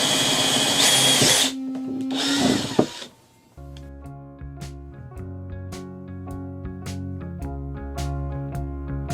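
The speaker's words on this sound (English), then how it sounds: "it's easiest to do with the drill" Power drill boring air holes in the sides of a plastic tub for a snake enclosure, with two sustained whirring bursts of drilling up close, followed by a quieter stretch of steady tonal sound.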